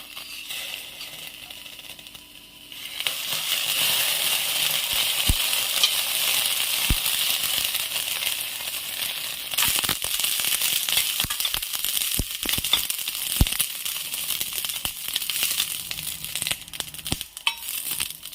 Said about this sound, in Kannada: ಈಗ ಅದೇ ಥರ ಹಸಿಮೆಣಸಿನ್ಕಾಯಿ ಫ್ರೈ ಮಾಡ್ತಾರೆ. 1 ಸ್ಪೂನ್ ಎಣ್ಣೆ ಹಾಕಿ